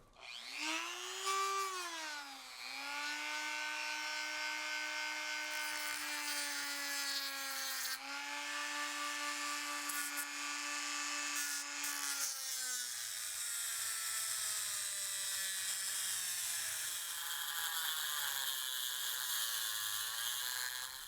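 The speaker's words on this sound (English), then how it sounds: "I'm going to see if I can make any headway with my motor tool" A rotary motor tool grinds and cuts through the shell of an HO-scale Kato NW2 switcher locomotive. It makes a continuous high-pitched whine that drops in pitch under load and runs steadily for about twenty seconds without talk.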